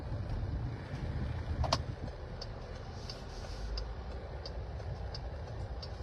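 Car interior noise while driving, a steady low rumble and wind roar with a few faint clicks, with no talk.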